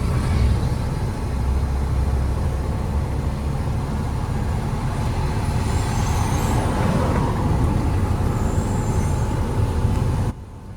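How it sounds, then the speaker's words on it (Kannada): A Tata Signa sixteen-tyre truck rumbles past, a loud continuous low engine roar with road noise and faint hissing, heard up close for several seconds before cutting off. "ನಮ್ದೊಂದು ಗಾಡಿ ಒಂದು ಬರತ್ತೆ ನೋಡ್ರಿ, ಟಾಟಾ ಸಿಗ್ನರ್ ಸೋಲಾ ಟೈರ್ ಇದ್ರಿ."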